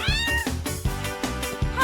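A cat meows repeatedly and loudly, close up, with a string of harmonic, wavering cries running back to back.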